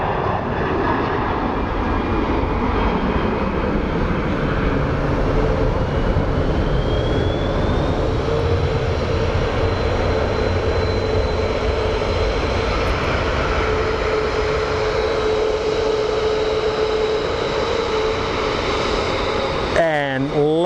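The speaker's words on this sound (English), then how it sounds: "737. That is a heavy boy right there." United Airlines Boeing 737 jet at Phoenix Sky Harbor airport, a steady, loud engine roar that holds for the whole stretch with a rising whine, heard close from an outdoor spotting position.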